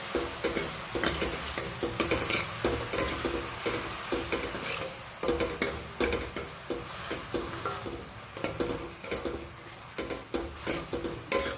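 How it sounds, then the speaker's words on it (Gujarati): A spoon scrapes and stirs food in a pan after salt and turmeric go in, giving a repeated rhythmic rasping over a soft background sizzle, close and steady. "મીઠું એડ કરી લઈએ. મિક્સ કરી દઈએ."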